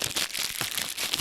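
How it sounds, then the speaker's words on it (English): Aluminum foil crumpled right against a microphone, a dense, continuous crinkling rustle that stays loud and close for about a second with no talking. "but you just crumpling that all in the mic."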